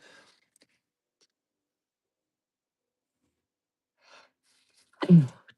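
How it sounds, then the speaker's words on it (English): A single sharp sneeze in a dusty room bursts out near the end after mostly quiet, with a faint breathy sound just before it. "There's two sneezes."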